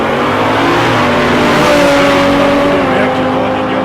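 A small Toyota Corolla roars down the strip on a drag racing run at South Coast Raceway in 2021, its engine a loud, sustained, high-pitched drone that holds steady without a break.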